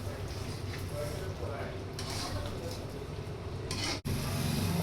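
Chicken frying in oil with onions and capsicum, stirred around the pan: a steady sizzle with scraping stir noises throughout and one brief dropout near the end.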